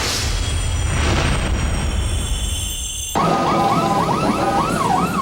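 An MMDA Rescue ambulance siren on a highway at dawn, loud and close, first a steady roar of traffic and engine, then a rising and falling wail cycling repeatedly over road noise.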